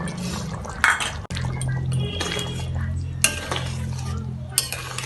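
Water is poured into a simmering chicken and potato curry to make gravy, with splashing liquid, clinks of a pot and utensil, and stirring close by.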